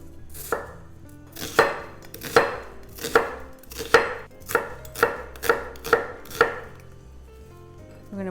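Half a medium onion chopped with a knife on a cutting board, about ten sharp, close knocks in an irregular rhythm, a few spaced out at first, then quicker in a run, with no voices.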